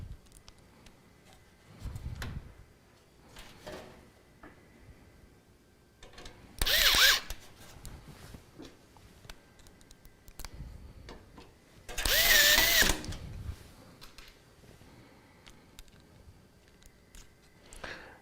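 Power screwdriver driving screws to secure an Astrape P1-650W-G computer power supply inside a Gamdias Talos M1 case: two loud whirring bursts of about a second each, separated by quieter handling clicks and rustling.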